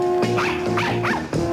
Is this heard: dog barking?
yes